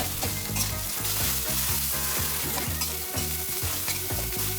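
Fried rice with shrimp-head fat being broken up and stir-fried in a hot pan, a continuous loud sizzle with rapid rhythmic scraping and tossing of a spatula throughout, close up and without speech.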